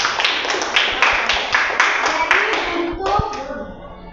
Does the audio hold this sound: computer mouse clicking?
no